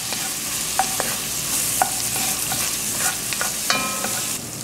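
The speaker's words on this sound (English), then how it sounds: "when you put butter and garlic and onion in a pot and saute it" Butter, garlic and onion sauté in a pot while being stirred constantly, giving a continuous close sizzle broken by scraping clicks of the utensil against the pot, with no voices.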